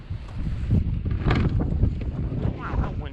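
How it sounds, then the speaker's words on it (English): Strong wind buffets an outdoor microphone in a steady low rumble with gusty swells, close and loud throughout, on a residential street. "Wow, that wind's no joke."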